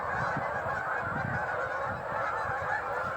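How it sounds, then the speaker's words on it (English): Thousands of ducks and geese calling together on a pond at midnight, a dense, continuous chorus of honking and quacking that sounds close and steady with no talk. "The ducks are at it. The geese, everything that's in the pond right now"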